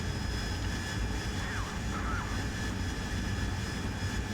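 A Harrier jet's engine in DCS World drones steadily as the aircraft climbs toward 15,000 feet, a constant broadband roar with faint whistling tones and no talk.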